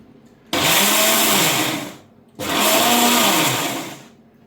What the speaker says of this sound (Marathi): हे पण मिक्सरमध्ये काढते